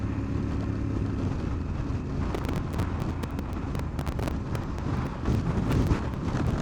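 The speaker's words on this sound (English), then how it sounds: "God, the wind really is getting up." Strong wind buffets the microphone on a drive home through the Lake District, a constant loud rushing roar with gusty bursts and a low vehicle rumble beneath.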